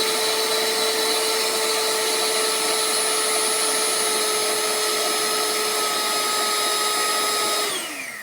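A cheap electric hand mixer, Han or Advance brand, runs alone with a loud steady whine and rich harmonics for about eight seconds, then winds down as it is switched off.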